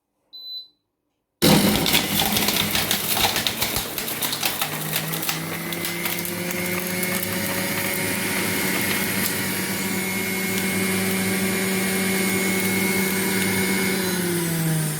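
An electric juicer grinds carrots after a brief silence, starting abruptly with a loud whining motor and rattling crunch, its pitch slowly sliding as the pulp is processed.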